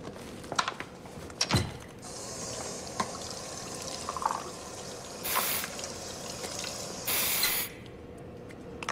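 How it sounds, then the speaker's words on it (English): Water from a sink tap runs while hands are washed, in two short hissing spurts, the second lasting about half a second, between quieter clicks and rustles. "Go ahead, wash your hands."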